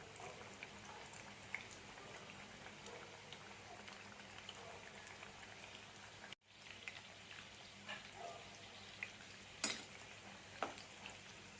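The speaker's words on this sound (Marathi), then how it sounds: "चाफ फ्राय करूया" Mutton chaap fries in hot oil in a kadhai, giving a faint, continuous sizzle with scattered small pops and crackles.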